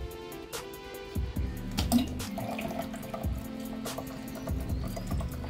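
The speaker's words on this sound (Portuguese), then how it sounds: "E vou derramar direto dentro da betteira." Treated water is poured from a container into a betta fish tank during a partial water change, producing a close, continuous splashing trickle with gurgling and a few sharper clunks, with no talking.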